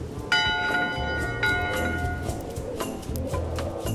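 A ship's bell in Return to Monkey Island rings out in several sharp metallic strikes, each leaving a long ringing tail, close and fairly loud with no talking.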